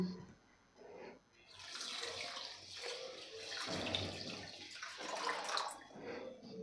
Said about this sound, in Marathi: यामध्ये पाणी घालून घेतलेलं आहे